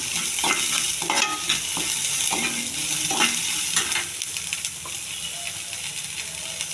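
Curry leaves and chopped onions fry in a pan, giving a steady crackling sizzle with repeated scraping stirs as the mix is browned, close and fairly loud throughout.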